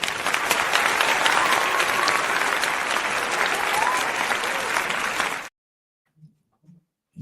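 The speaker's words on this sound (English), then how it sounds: "Let me get some applause" Loud, dense applause from a crowd during an evening coaching show runs steadily for several seconds, then cuts off abruptly into near silence broken by a couple of faint low sounds.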